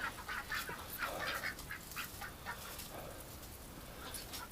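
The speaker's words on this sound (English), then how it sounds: "All right, where are you, duck?" Ducks calling near and far, a scattered run of quacks and honk-like calls over open outdoor noise, from a flock of rescued ducks on a homestead.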